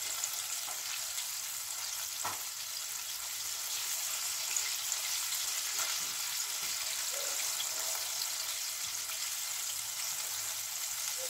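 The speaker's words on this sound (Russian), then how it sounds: "возле мяса шипит, потому что много влаги, а потом меньше, меньше, меньше." Chicken wings coated in paprika fry in hot oil, giving a steady, close sizzle that holds through the whole stretch, with a few faint clinks and stirring sounds and no talking.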